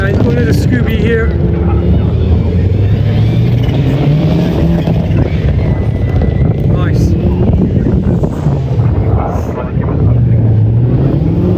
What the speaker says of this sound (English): Then you've got the Mark II Cortina just went past here.